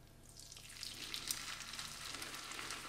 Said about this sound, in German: Das mache ich jetzt auch jedes Mal, wenn ich die nächsten Röstis brate